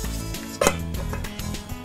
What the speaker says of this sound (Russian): Подходит только как крышка для большой кастрюли